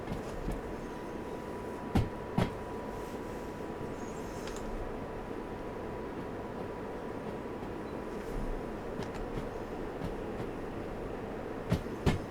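A train rolls along in the video game Derail Valley, a steady low rumble of wheels with a few sharp clacks and knocks scattered through, moderately quiet and alone.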